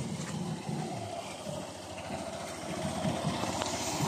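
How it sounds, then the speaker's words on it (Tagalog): A tricycle engine idles as it drives in, a continuous low puttering rumble nearby, steady throughout with faint clattering on top. "Papasok pala yung tricycle guys."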